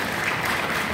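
Brief, steady wash of audience applause at a public talk, many hands clapping together at a moderate distance with no voices on top.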